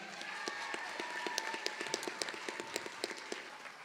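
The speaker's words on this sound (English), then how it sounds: "Round of applause for Cassius, ladies and gentlemen." Audience at a cooking competition gives a round of applause for a contestant, a steady patter of many hands with sharper individual claps standing out, moderately loud over faint background voices.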